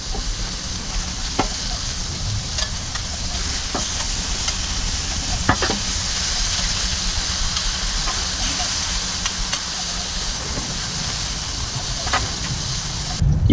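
Thin smash burger patties sizzle and hiss steadily on a hot Blackstone flat-top griddle, a continuous close frying crackle with a few sharp scrapes and pops across the whole stretch, no talking.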